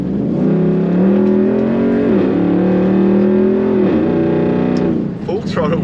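Nissan Y62 Patrol with a loud aftermarket exhaust revving, a deep droning roar rising and holding at full throttle, close and loud, with a voice talking over the engine.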